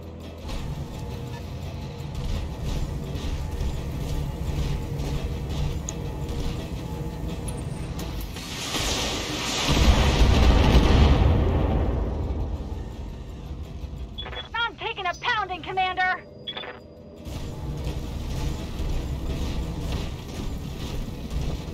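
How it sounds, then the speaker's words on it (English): A rumbling blast from weapons fire in the BattleTech game swells over a constant mechanical engine hum, followed by a burst of stuttering, whirring mechanical noises before the drone returns. "Firing all weapons."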